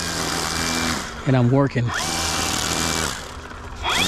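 A grass trimmer's small engine runs steadily with a broad, buzzy whine, loud and close, while someone speaks briefly over it in the middle.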